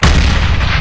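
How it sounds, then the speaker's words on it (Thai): A grenade blows up in the Neighborhood War video game: one loud, dense blast that fills the whole moment and stays powerful until it cuts off under a second later, with no voices. "ปาระเบิดไปแล้ว"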